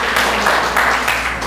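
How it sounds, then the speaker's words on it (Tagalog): A church congregation claps in praise during a Filipino worship service, giving a dense, loud, continuous wash of applause over a steady low hum. "At isa pong malakas na palakpak sa ating pong Panginoon."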